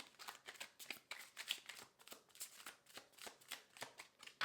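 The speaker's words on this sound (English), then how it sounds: "One more shuffle." A deck of tarot cards being shuffled by hand in a steady run of crisp riffling bursts, close and fairly quiet, with no talking.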